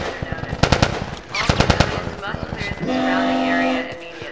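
Gunfire from The Last of Us video game: several rapid bursts of automatic fire in the first two seconds, close and loud, followed by a sustained droning tone, with a voice talking over parts of it.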